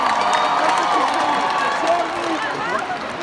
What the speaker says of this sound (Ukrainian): ваші оплески йому вже